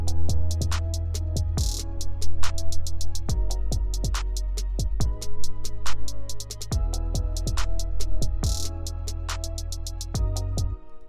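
A trap beat made in FL Studio with rapid, rolling hi-hats ticking over deep 808 bass and kicks, the hats stuttering into quick bursts and rolls throughout.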